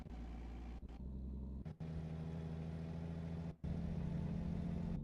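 A truck engine in American Truck Simulator drones at a steady mid-low idle, with a few brief dropouts where the sound cuts out and returns.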